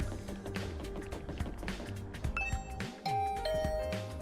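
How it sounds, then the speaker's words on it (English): A synthesized two-tone doorbell chime in the video game The Hundred Line rings out clearly over ambient background music, sustained tones ringing on after the press. "I rang the doorbell to Tsubasa's room."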